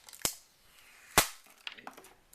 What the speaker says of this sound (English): Let's go ahead and peel it off.